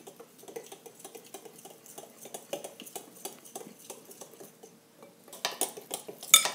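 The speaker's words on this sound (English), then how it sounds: "And then we're going to mix it together until it's smooth." A utensil scrapes and clinks against a bowl while chocolate cupcake batter is stirred smooth, a quick, uneven run of close clicks and taps that grow louder near the end, with no voices.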